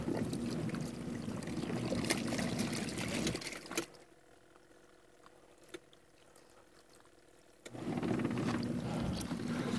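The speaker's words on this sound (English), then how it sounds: "So I'm gonna turn on the washing part of it" An off-grid washing machine runs its wash cycle in the desert with a busy churning, sloshing water noise. It stops for about four seconds, leaving faint background, then starts again just as loud.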